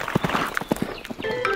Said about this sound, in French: Le cheval arc-en-ciel, il galope dans mes rêves.